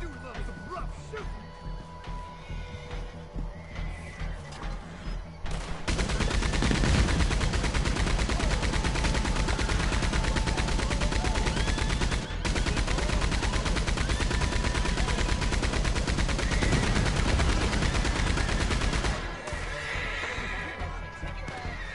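A rough gunfight in Red Dead Redemption 2 opens into a long, dense stretch of loud continuous gunfire with horses whinnying and hooves clattering, all under game voices.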